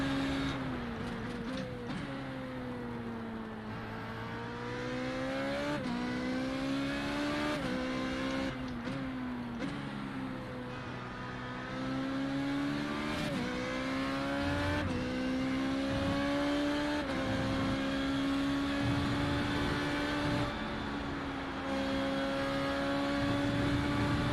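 An FR3.5 race car engine in the iRacing video game, racing at Barcelona, screams loud and close. Its pitch climbs through each gear and drops sharply at the shifts, over and over, with no speech.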